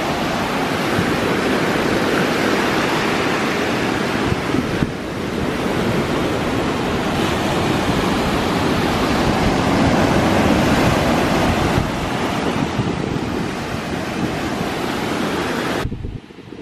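Ocean surf at a San Diego beach, a steady broadband wash of breaking waves with some wind noise on the microphone, loud and continuous for the whole stretch before cutting off abruptly at the end.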